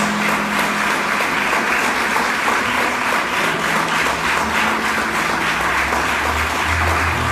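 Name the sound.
church congregation applauding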